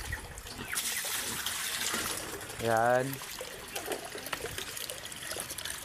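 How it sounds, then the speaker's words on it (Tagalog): Water poured out for pigs to drink after their feeding, a steady splashing trickle with a short voiced sound cutting in midway. "Kaya lagyan natin ng tubig mga kababoy."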